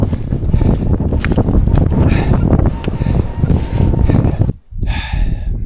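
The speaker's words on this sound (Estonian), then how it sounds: "Kõvasti tuult jääb nüüd" Strong wind buffets a microphone on a blustery outdoor trek in Lapland, a loud, steady roaring rumble that runs throughout, with one brief dropout near the end.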